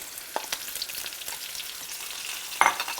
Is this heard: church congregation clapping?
no